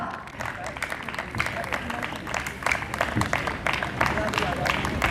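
An audience at a Voice of Truth Ministry evening applauds as a guest is welcomed onto the stage, scattered clapping continuing beneath a speaking voice and general crowd murmur.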